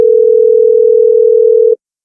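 Google Meet's speaker test plays one loud, steady electronic tone lasting under two seconds, then stops abruptly into silence.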